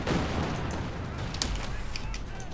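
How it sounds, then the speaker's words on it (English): An air strafe attack in Company of Heroes 2 rips across the battlefield, with heavy rapid gunfire bursts and booming impacts, loud and close, followed by scattered sharp cracks. "That's an air strafe."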